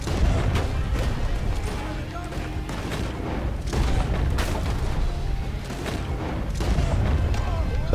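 Booming gunshots in Red Dead Redemption 2 fire repeatedly over a dense, rumbling battle mix, loud and sustained for several seconds.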